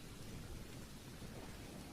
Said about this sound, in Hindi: बारिश तेज हो रही थी